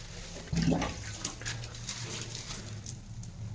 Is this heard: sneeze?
no